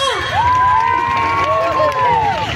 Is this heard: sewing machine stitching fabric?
no